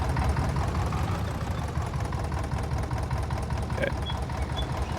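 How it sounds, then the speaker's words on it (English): A single-piston tractor engine runs close by, a steady rumbling chug with a rapid knocking rhythm that holds even and loud throughout. "when I start one piston tractor up, I shut up for a minute just to hear it"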